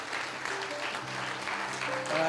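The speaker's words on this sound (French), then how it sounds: "On applaudit" A church congregation applauds during a French-language sermon, steady dense clapping with some voices mixed in.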